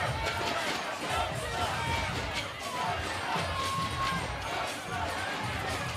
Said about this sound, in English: You hear the Novi Sad chants beginning as they got their own cheering section.